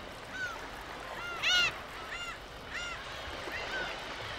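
Black-tailed gulls call several times in short, separate bursts, faint and somewhat distant, over a quiet outdoor background on a small island in the breeding season.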